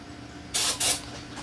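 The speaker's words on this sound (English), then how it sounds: "I did spray a little bit of starter fluid in" Two short hissing spray bursts of starter fluid aimed into a new engine's carburetor, close and loud against quiet background, the second slightly longer.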